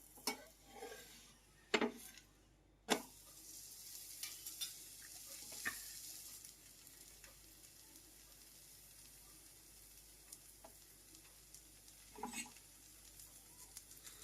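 Paratha frying in oil on a hot pan, a steady low sizzle with a few sharp clinks and taps of a spatula near the start and one more later.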